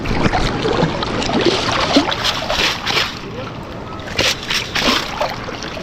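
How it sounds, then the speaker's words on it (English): A metal detecting scoop digs through shallow water, giving repeated sloshing and splashing scrapes, fairly close and steady, with a brief rush of water near the end. "We'll take a good scoop on it."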